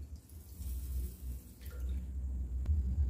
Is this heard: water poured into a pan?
yes